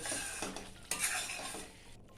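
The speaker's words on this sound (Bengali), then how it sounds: "সমস্ত উপকরণ একবার ভালো করে মিশিয়ে নেব।" Pointed gourd poppy seed curry ingredients, with green chilies and sugar, mixed in a pan: close scraping spatula strokes over a soft sizzle, with one louder clatter against the pan partway through.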